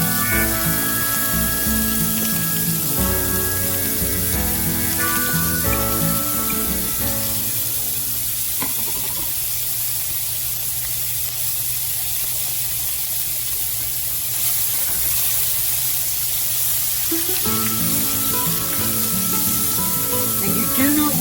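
Onions and garlic sizzle in a very hot iron skillet, a steady loud frying hiss with a busier crackle near the start that thins out midway and swells again toward the end.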